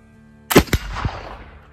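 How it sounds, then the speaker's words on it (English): A single loud black powder gunshot fires with 3F powder made from Osage orange charcoal mixed with 1% iron oxide. The close, sharp blast is followed by a quick echo and a fading rumble. "So here's shot number one."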